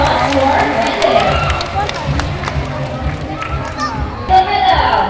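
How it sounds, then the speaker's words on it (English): An audience at an oceanarium bird show in Cebu cheers and claps after a trained bird's trick, a busy, steady wash of crowd noise with sharp hand claps and children's voices mixed in. "How about a round of applause"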